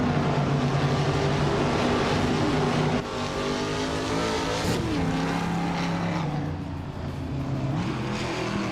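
Ford Mustang and Chevrolet Camaro race cars lapping a track, a loud, steady engine roar with shifting pitch as cars rev and pass, dense and continuous throughout with no pauses.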